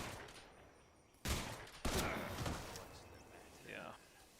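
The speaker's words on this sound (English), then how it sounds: "What are you shooting at?" Gunfire rings out in Metal Gear Solid Delta, two sharp loud shots about half a second apart followed by fainter reverberating tails and a brief later rattle.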